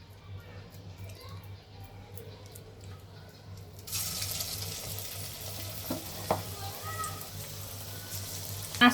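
Cauliflower kebabs start frying in hot oil partway through, a broad steady sizzle rising over a low kitchen hum with a few soft clinks, after quieter stirring and handling at the start.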